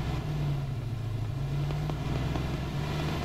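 A Land Rover engine in Arma 3 drones steadily and loudly, a constant low rumble that holds without clear revving throughout.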